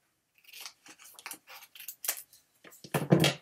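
Scissors trimming material for a fabric folio: a string of about a dozen crisp snipping cuts in uneven rhythm, close and clear in a quiet room, the last cut fuller and louder.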